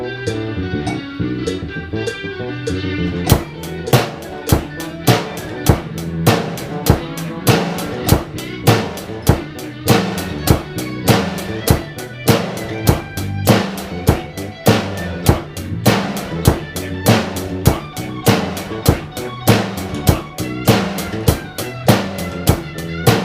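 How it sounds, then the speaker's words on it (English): A drum kit plays a steady rock beat along with a backing track, sharp snare hits cracking in a regular pattern. The full kit joins a few seconds in, loud and close. "now you just got to add the snare in, so it will sound like this"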